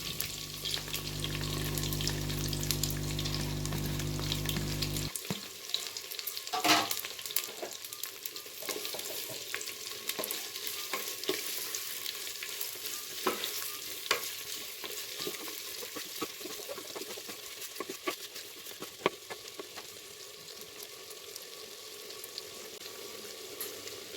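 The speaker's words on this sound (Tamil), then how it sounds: "நறுக்கி வச்சுருக்க வெங்காயத்தை சேர்த்து நல்லா பொன்னிறமாக வர வரைக்கும் வதக்கி விட்டுடலாம்." Onions sizzle steadily in a hot pan while being fried until golden brown for mutton biryani, with occasional scrapes and clicks of a spoon stirring; a low hum fades out early on.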